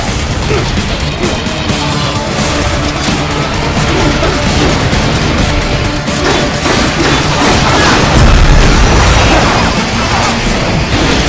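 Heavy missiles exploding during combat in the video game Metal Gear Rising, a loud, dense wall of crashes, booms and bursts that runs nonstop and swells near the end.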